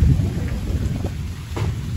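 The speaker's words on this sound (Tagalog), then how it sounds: "Nag-ulan na gyud siya as in." Steady rain hisses and patters close by, with a low rumble underneath, no voices.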